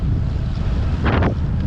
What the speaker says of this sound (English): that's where the wind's coming from